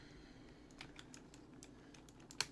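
Keycaps being handled during cleaning of a computer keyboard, with a series of faint, scattered plastic clicks and taps close by and one sharper click near the end.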